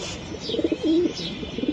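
Racing pigeons cooing at a breeding loft, a few soft, low, rolling coos close by, the longest one near the middle, over light background noise.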